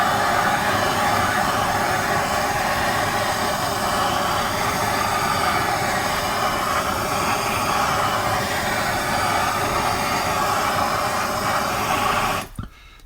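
Searzall torch attachment searing two pieces of bread up close over a cold pan, giving a loud, steady roaring hiss that runs unbroken and then cuts off abruptly at the end.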